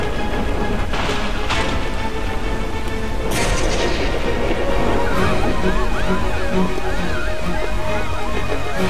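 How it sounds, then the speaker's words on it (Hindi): Thunder booms and rain wash through a stormy scene in an animated cartoon, with heavy low rumbling cracks early on over a dense watery hiss, and a voice talking partway through. "बारिश होने वाली है।"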